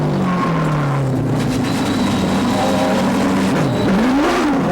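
In-car sound from a race car at a short oval track as the driver locks the brakes up hard, a loud continuous engine drone shifting pitch under steady road and tire roar.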